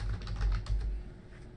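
Keys clatter on a computer keyboard as a short name is typed, a quick run of light clicks up close that fades out toward the end.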